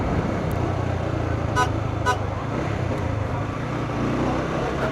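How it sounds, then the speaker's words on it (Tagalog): A car horn toots twice in quick succession, sounding thin and fairly distant over a steady rumble of road traffic and engines on a flooded stretch of highway in Minalin, Pampanga. "Humina yung busina, oh."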